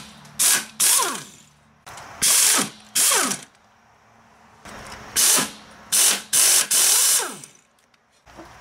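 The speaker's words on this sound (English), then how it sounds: "I'm going to remove these four nuts that hold this side of the transmission to the mount" A ratchet wrench removes 17 mm transmission mount nuts on a 2002 Mitsubishi Lancer in several close, loud bursts of rapid clicking, separated by short quiet pauses.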